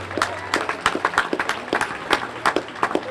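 Sparse, uneven clapping from an audience at a Cape Verdean flag raising ceremony, individual claps picking out an irregular rhythm at moderate distance with no talk over it.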